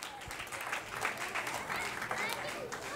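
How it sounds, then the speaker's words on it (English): Applause at a child's first birthday party during a magic trick, quiet and fairly thin clapping from a small group with people talking over it. "let's give her a big round of applause"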